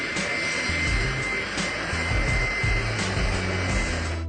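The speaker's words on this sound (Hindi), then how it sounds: "jet powered school bus" The jet engine of a jet-powered yellow school bus gives a loud, continuous roaring whoosh with a steady high whine and a rumbling low end, close and unbroken throughout.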